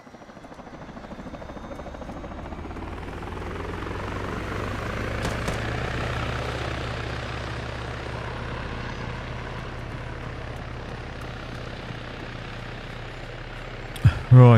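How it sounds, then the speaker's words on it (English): A transport helicopter in the video game ARMA 3 gives off a steady, droning rotor and engine whine that swells slightly mid-clip and holds throughout, ending with a few sharp clicks. "Let's get back in the helicopter."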